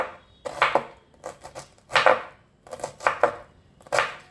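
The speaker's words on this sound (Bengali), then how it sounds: "এভাবে পুরো বাঁধাকপিটা কেটে নিই" A knife chops through fresh cabbage on a board, cutting it into fairly thick slices for a cabbage and tomato sabzi, in bursts of close, crisp strokes that fall in quick clusters with short pauses between them.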